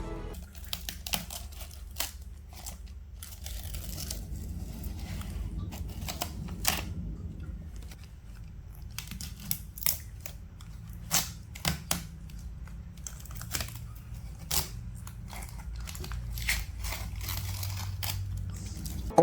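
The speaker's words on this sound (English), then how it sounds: "we are going to quickly remove the packaging over here" Packaging is peeled off an MSI RTX 4060 8GB Ventus 2X graphics card box, giving scattered soft rustles and crinkles with sharp plastic and cardboard clicks over a faint background hum.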